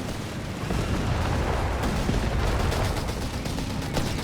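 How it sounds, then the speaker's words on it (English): An artillery barrage rumbles in the video game Company of Heroes 3, a dense continuous roar of distant blasts and booms that keeps steady and loud throughout. "Got artillery barrage."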